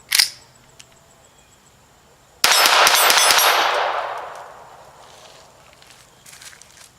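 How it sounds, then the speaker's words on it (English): A quick string of about five shots from a gun loaded with Aguila Super Extra standard velocity ammunition, fired fast at a white steel plate. A sharp click comes first, then the burst of shots with a long ringing decay. "So, let's shoot the white plate down there fast."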